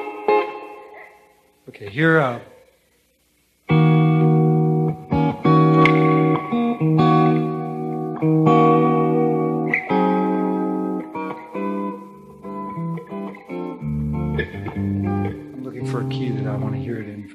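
Electric guitar played through an effects unit with reverb at a music seminar, ringing sustained chords and single notes with a lingering tail, briefly interrupted by a short spoken phrase near the start.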